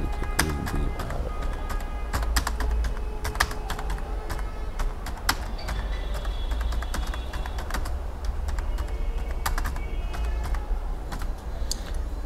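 Keys on a computer keyboard clatter steadily at close range while Bangla text is typed into Microsoft Word. Quick, irregular clicks run without a break for about twelve seconds.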